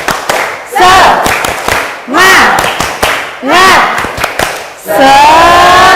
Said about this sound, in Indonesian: Kita tepuk semangat sekali lagi. Tepuk semangat.